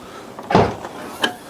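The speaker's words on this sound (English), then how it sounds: "and unlock the doors," A Fiat 500's mechanical door locks clunk once as they unlock, followed a moment later by a second, lighter click, fairly close and with no talking.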